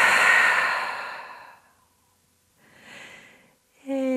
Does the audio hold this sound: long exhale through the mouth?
yes